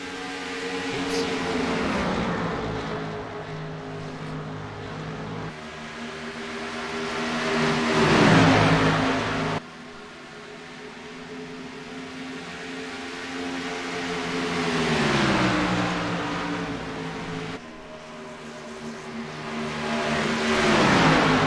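Race cars lapping the oval at Atlanta in a racing game, engines droning and rising in pitch as cars sweep past in repeated waves, loud and continuous with no talk.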